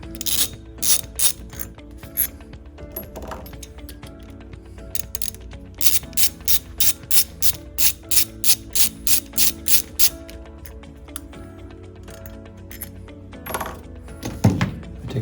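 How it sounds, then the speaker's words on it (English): A 3/16 Allen wrench ratchets out the rotor case retaining bolts of an Ampco ZP1 series pump, with close, loud, regular clicking strokes in long runs and a metallic clink near the end. "Take our 3/16 Allen wrench. And we're going to remove the rotor case retaining bolts."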